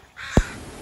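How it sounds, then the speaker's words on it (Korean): A single harsh crow-like caw sounds once, close and loud, from birds being fed at a beach on a clear winter day, over faint background wash. "새들에게 모이를 주고 있어요."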